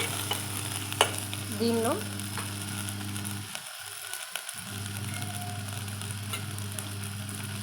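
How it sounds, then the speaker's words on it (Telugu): Ingredients for mutton curry fry in a pan with a steady, close sizzle and occasional stirring scrapes, a low hum underneath, briefly dropping out before resuming, with a short spoken word over it. "ఇలా పచ్చివాసన పోయేంత వరకు వేయించుకొని"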